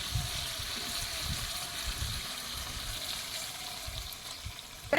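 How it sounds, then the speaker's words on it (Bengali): Water poured into sizzling duck meat curry cooking in oil, a steady soft sizzle and bubbling with low gurgling, fairly quiet and close, without talk. "এবারে আমি জল দিয়ে দেবো"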